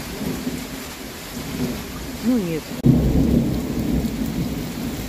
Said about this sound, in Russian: Гроза точно над нами.